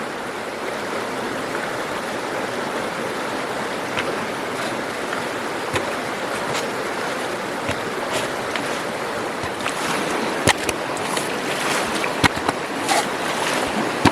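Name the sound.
water filling a Vo-Gus gold concentrator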